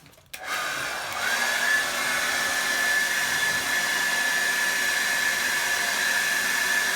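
A hair dryer clicks on and settles into a loud, steady whooshing blow with a thin whine while blow drying a long bob with a round brush, and no one talks.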